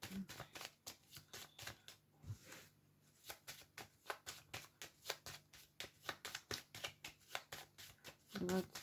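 Deck of cards being shuffled, a series of quick close riffling bursts in a rhythmic pattern, with a voice speaking around the shuffles.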